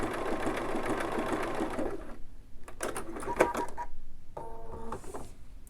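A Bernina sewing machine with foot #1 runs a reverse triple stitch. It chatters steadily for about two seconds, then stops and gives off scattered mechanical clicks and taps.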